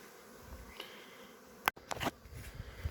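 A steady buzz of many honey bees droning close by as bees are shaken off a honey frame, with a few sharp handling knocks and rustles toward the end.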